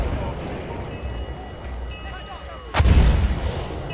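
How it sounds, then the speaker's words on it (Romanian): A heavy artillery blast in a first-person shooter game erupts as a loud, booming low-end burst near the end, following a stretch of rumbling battlefield ambience with distant lighter shots and faint voice chatter. "A luat artilerie."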